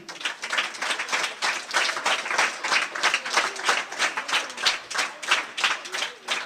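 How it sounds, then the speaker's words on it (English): A group of schoolchildren applauding their teachers, clapping in loose rhythmic bursts that swell and dip, moderately close, with voices mixed into the clapping. "giving a lofty round of applause to your teachers"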